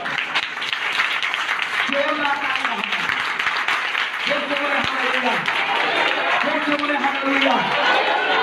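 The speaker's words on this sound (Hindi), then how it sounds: "ताली बजा के परमेश्वर को धन्यवाद देते हैं" Congregation at a Christian worship gathering clapping in a dense continuous wash, with voices calling out over it in repeated bursts.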